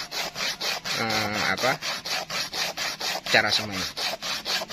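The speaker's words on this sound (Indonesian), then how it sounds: "Nah, kita amplas dulu." Sengon parica (Schizolobium amazonicum) seeds are rubbed with sandpaper in quick, regular back-and-forth scraping strokes, close and loud, with a person talking briefly over the rasping.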